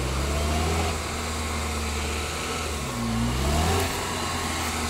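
A car engine revs hard while the vehicle sits stuck in deep mud, a loud sustained roar that rises and falls in pitch as the throttle is worked, heard close up.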